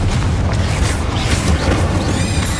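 Spell explosions boom through Hogwarts Legacy combat, a loud, dense, continuous wall of blasts and rumbling impacts with no pause.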